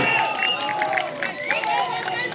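Crowd applause and cheering for both teams at a village volleyball match between Manjhipur and Sivni Malara, a steady babble of clapping under continuous commentary.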